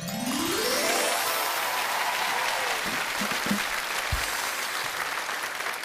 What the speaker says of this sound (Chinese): 现场的掌声一听都不一样，很有气势，雷鸣般的掌声